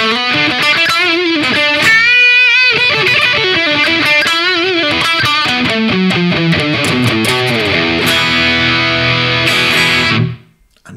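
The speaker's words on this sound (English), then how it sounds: "So the Dizzy Devil patch sounds something like this." A metal distortion guitar patch on a Valeton GP-200LT multi-effects unit plays a heavily distorted riff with bending leads and sustained chords, loud and up front, cutting off abruptly near the end.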